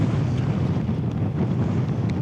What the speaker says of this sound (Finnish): Tuuli on vilvoittavan tuntunen.